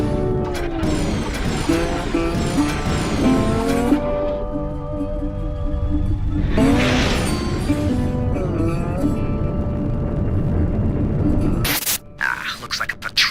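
Worn-out old spaceship engines in the space game Rebel Galaxy spool up with rising whines, mechanical clanks and a low droning rumble that swells and settles, ending in a sharp burst of noise.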